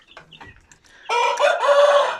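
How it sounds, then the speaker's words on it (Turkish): An Aseel rooster gives a loud, close crow lasting about a second. It follows a few faint scattered clucks and rustles from the coop. "bir tanesi horoz bunların. Şu horoz."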